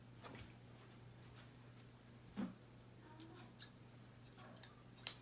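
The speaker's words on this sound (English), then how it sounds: "Cut off some of the extra so we don't have to work with that sort of bulk." Scissors cut through t-shirt fabric, giving a few faint, soft snips and clicks over a quiet low hum, the last snip a little sharper.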